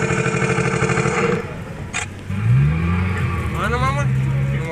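A car engine revving as the driver presses the gas, a steady engine drone that drops and then rises into a rising rev, close by, with a voice speaking over it.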